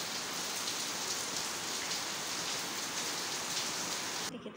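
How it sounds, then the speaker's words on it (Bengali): Steady rain falls on surfaces around a village house, a dense even hiss of drops that holds throughout before cutting off abruptly near the end. "আবার এই যে দেখো কি বৃষ্টি শুরু হয়েছে"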